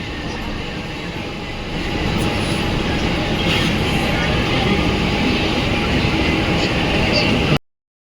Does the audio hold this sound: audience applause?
no